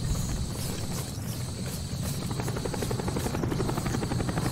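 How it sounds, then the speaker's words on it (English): Helicopter in Call of Duty Black Ops, a steady loud rotor thrum with rapid blade chop filling the whole stretch, with no voices over it. "We're taking heavy fire from the helicopter."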